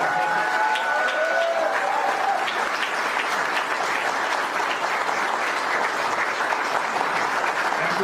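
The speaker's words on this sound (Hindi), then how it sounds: "तो आइए एक बार हम जोरदार तालियों के साथ" Loud, continuous audience applause at a Hindi panel discussion on training in the direct selling industry, dense even clapping from a large crowd with a brief whistle near the start.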